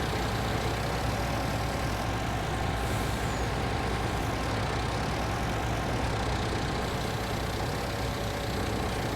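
A tractor engine in Farming Simulator 19 drones steadily and loudly while loading sugar beet on a snowy farm, with a constant rumbling, hissing roar that never lets up.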